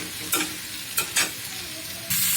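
Leafy greens being stir-fried in a pan until dry, with a steady sizzle broken by a few sharp scraping strokes of a spatula, close and fairly loud.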